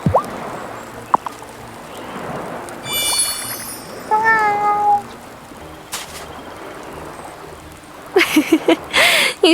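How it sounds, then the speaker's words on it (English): A cat meows in the video game Wylde Flowers, a few short rising meows in the middle over a soft steady watery ambience, followed by brighter clattering game sounds near the end. No one speaks. "You still liked that, didn't you, Kitty?"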